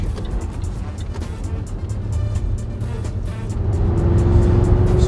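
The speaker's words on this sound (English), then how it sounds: "you can actually hear the air, the roar of the exhaust there" Quad exhausts on a Range Rover give a deep, steady roar that builds louder as the car drives off. A low engine drone sits throughout with no talk over it.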